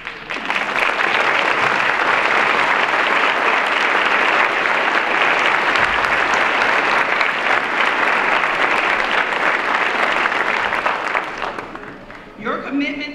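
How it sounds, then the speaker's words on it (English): Sustained, loud applause from a large audience at a university pharmacy school hooding ceremony, a dense steady roar of clapping lasting over ten seconds before tapering off near the end. "coupled by your applause"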